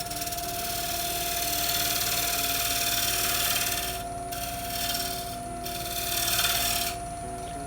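A wooden glue block on a lathe has its edge smoothed and chamfered, giving a steady close rasping rub over a constant machine hum, with a few brief pauses in the scraping.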